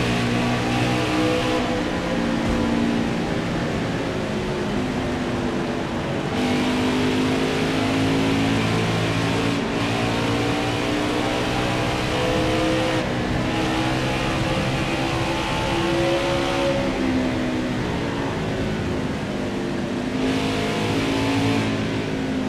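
Race car engines in NASCAR Heat 5, a loud continuous high-pitched roar of stock cars at speed whose pitch climbs and drops with each shift and pass, sustained throughout with no voices.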